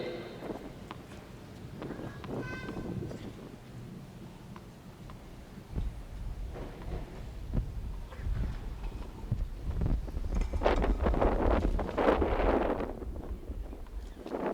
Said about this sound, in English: Another windy day down there.